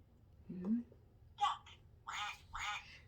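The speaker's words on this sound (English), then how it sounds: "Duck. What does duck do? Quack." A farm animal 30-button sound book plays a duck's quack: a brief low voice, then a few short, bright electronic quacking bursts close by.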